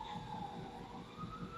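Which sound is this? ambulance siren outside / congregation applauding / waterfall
ambulance siren outside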